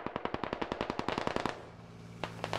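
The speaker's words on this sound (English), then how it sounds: "he hears the coax going off." A BTR armored vehicle's coaxial machine gun fires a fast, sustained burst of about twenty rounds in the Squad video game, loud and close, then stops, with scattered distant gunshots after.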